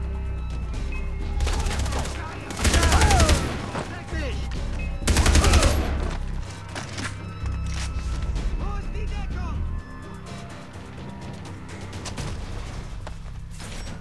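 Automatic gunfire in Far Cry 3, loud sustained bursts around two and five seconds over constant game ambience, with sparser shots afterward.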